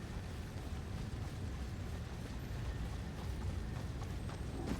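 Horse hooves clip-clopping in the video game Elden Ring, a steady rhythmic trot of repeated hoof beats under a low ambient rumble, with no speech.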